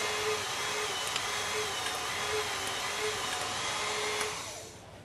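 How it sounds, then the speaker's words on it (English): A WREN hydraulic torque wrench pump runs with a steady, loud motorized whine and hum while building pressure to undo a bolt, then cuts off just before the end. "start the pump, apply advanced pressure and hold it, and the tool will build up pressure and undo the actual bolt"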